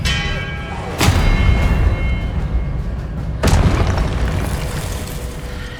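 Two loud, sharp blasts from the Confringo spell in Hogwarts Legacy, each a sudden boom followed by a rumbling decay, spaced a couple of seconds apart over game background sound.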